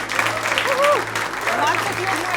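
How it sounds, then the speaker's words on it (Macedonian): Studio audience applauds guests arriving on a Macedonian morning TV show, a steady patter of clapping mixed with overlapping voices and a low electrical hum throughout. "Аплауз!"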